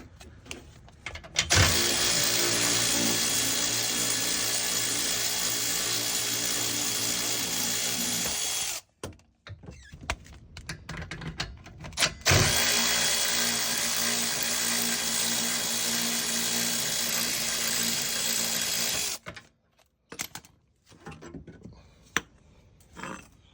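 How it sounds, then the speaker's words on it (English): Power tools loosen nuts and bolts on coilovers of a BMW E36 318ti, with two long, loud, sustained whirring runs close up and short pauses of clicking and handling between them. "you could just loosen up these nuts, the bolts."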